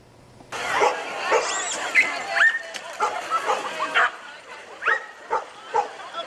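Dogs bark and yip repeatedly at an outdoor Humane Society dog paddle event in Starkville's Moncrief Park, a busy mix of close and farther yelps with people talking throughout.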